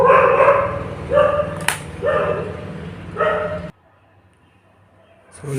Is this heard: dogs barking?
yes